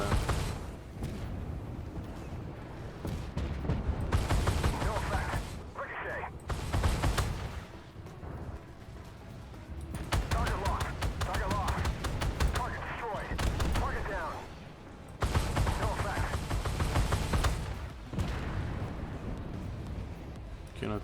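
Tank cannon fire in the Armored Warfare combat game, with repeated heavy booming shots and dense battle noise over sustained engine and effects rumble, mixed with a voice talking throughout.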